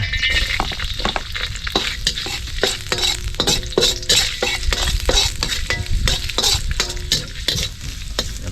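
Minced garlic sautés in a hot pan, a loud, steady sizzle with regular scraping stirs of a utensil against the pan, close and continuous without any talking.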